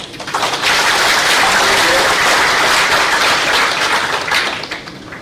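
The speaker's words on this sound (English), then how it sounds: "he deserves a little cheer over here, please" An audience at a maritime roadshow event bursts into sustained applause, a dense wash of clapping that swells quickly, holds steady and tapers off near the end.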